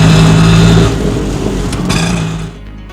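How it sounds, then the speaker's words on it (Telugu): The engine of an auto rickshaw hums loudly while driving, holding a steady drone before easing off and fading toward the end. "రాజా ఆటోని అలగాపురికి నడిపాడు."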